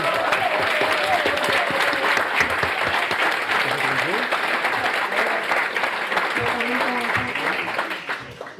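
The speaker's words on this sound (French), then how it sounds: "une bonne main d'applaudissements pour ces..." Warm audience applause at a book launch for a first novel, sustained clapping from a room full of people with some voices mixed in, tapering off at the end.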